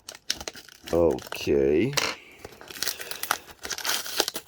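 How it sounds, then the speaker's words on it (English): Paper wrapping pulled and torn off a fountain pen box, close crinkling and ripping bursts with some rustling, and a short spoken word in between. "I will try to take out first this paper which surrounds the box."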